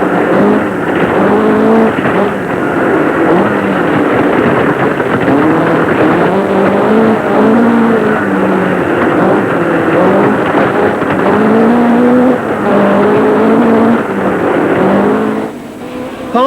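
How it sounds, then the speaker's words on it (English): A dealer team Vauxhall Chevette rally car driven by Tony Pond on the Yorkshire stages of the 1981 RAC Rally, its engine loud and close, revving and shifting pitch continuously through gear changes with wind rushing over it. "So it's on again through the Yorkshire stages, as seen from the dealer team Vauxhall Chevette, with Tony Pond at the wheel."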